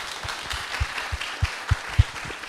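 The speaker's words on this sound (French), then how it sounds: "Je pense qu'il mérite de grands applaudissements." Applause from a conference audience at a cybersecurity talk on social engineering, a steady wash of clapping with irregular louder individual claps, moderately distant and without talk.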